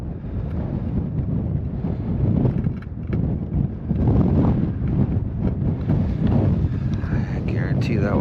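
Gusty wind buffeting the microphone out on a frozen lake during ice fishing in rain, a loud continuous rumbling roar with surges, with voices talking underneath.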